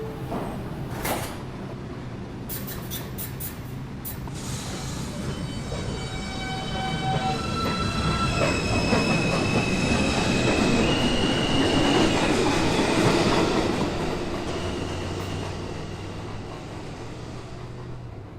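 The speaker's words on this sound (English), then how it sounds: "This is a Rose Street bound 2 express train." A New York City subway 2 express train pulling out of a station, starting with hisses and clanks, then building into a loud, sustained rumble of wheels and rail clatter that fades as it leaves, with no talk.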